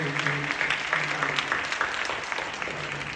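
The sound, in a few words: church congregation applause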